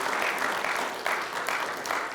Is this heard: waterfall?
no